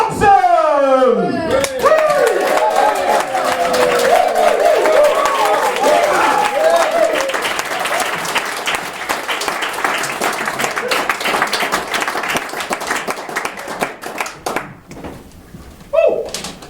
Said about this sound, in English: you're going to start the round of applause